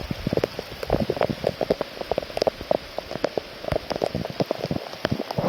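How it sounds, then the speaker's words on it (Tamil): Rain beginning to fall in a forest along a descending trail, drops pattering steadily and densely on leaves and surfaces close by, with no voices. "மக்களே, மழை வருது மக்களே."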